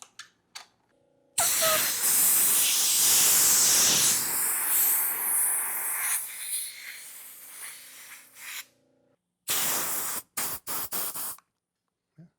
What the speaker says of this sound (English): I'll use my compressor to get those grips on.